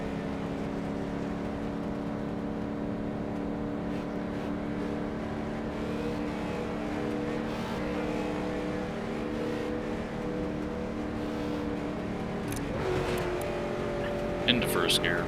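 Late model race car engines idle and rumble in a low steady drone in iRacing at Nashville Fairgrounds Speedway, with a sharper rev and rising tone near the end.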